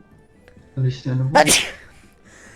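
One sharp sneeze erupts right after a brief spoken word during an online tabletop roleplaying session, sounding close and loud, then fading into quiet background.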